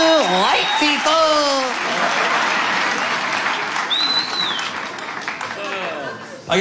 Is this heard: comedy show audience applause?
yes